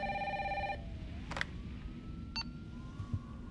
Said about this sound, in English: Someone ringing up my phone.